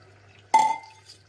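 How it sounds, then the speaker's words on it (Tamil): Soaked long-grain rice tipped into boiling water in a pressure cooker, a single brief splash and pour near the mic followed by a short settling hiss, over a faint low hum. "இப்போ பார்த்தீங்கன்னா தண்ணி கொதிக்க ஆரம்பிச்சிச்சு. இப்போ நம்ம அரிசியை போட்டுடலாம்"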